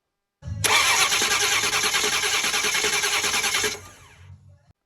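A lawn tractor's starter cranks the engine in one steady, loud, close whirring burst of about three seconds with a rhythmic chug, then cuts off and winds down.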